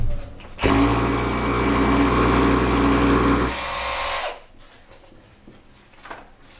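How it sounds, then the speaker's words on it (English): An SDS drill with an SDS bit bores a pilot hole into a wall, running as one loud continuous grinding burst for about three and a half seconds before winding down, followed by faint handling noises. "first stage is drilling a pilot hole in the wall with the SDS bit"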